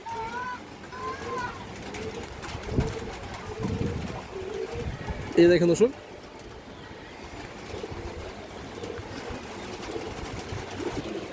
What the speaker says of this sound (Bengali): বিডের একটা বাঘা মাদি কবুতর